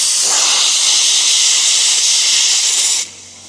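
Loud, steady hiss of air rushing through an open tyre valve during tyre seating on a tyre changing machine, holding for about three seconds before cutting off abruptly to a quiet background.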